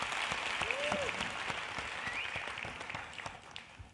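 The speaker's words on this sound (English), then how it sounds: "I appreciate those applause, as Jim said." Audience applause at a nonprofit launch event, a steady wash of clapping that stays fairly even and then thins out toward the end.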